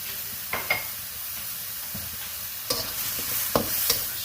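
Pork belly with brown sugar sizzles steadily in a hot stir-fry pan, close by, with a few sharp scrapes and clinks of stirring over the constant hiss.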